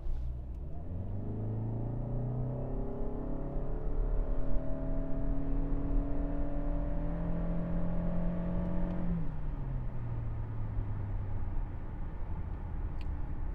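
A 2025 Toyota Camry Hybrid pulls away hard from a standstill, a steady rising whine and engine drone climbing through long smooth pitch sweeps before easing off, heard from inside without talk.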